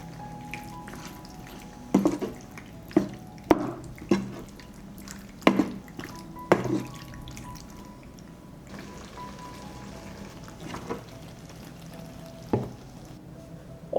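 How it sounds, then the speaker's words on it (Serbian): Creamy pasta sauce with hard cheese and al dente pasta simmering in a pan, with scattered soft bubbling pops and drips, some louder plops early on, over a quiet steady background. "Promešat ću i krčkati još 3 minuta"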